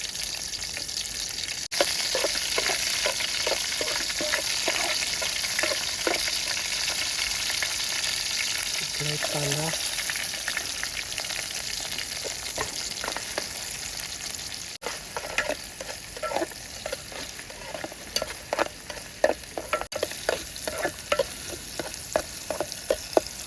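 Garlic and green chili sizzle in oil in a pan at a seaside campsite, a close, steady frying hiss with scattered crackles and occasional stirring clatter, no voices.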